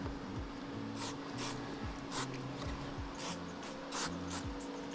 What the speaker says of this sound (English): Now I'm just gonna spray some of this activator